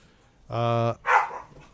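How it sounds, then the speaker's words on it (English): Dogs bark indoors during a podcast recording, giving one loud, tonal bark followed by a second rougher bark, fairly close, with background voices faint around them. "And there goes the dogs."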